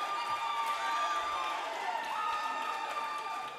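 A crowd at a boys' varsity high school basketball game cheers and roars as a broad sustained wash, with squeaking shoes and a raised commentator voice mixed in.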